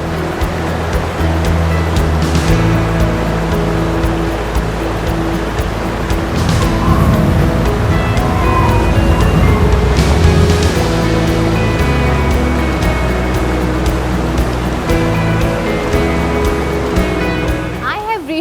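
Hillan waterfall in Haveli, Azad Kashmir, roars as a steady, loud wash of falling water. The rushing noise stays constant throughout, with a few faint background sounds on top.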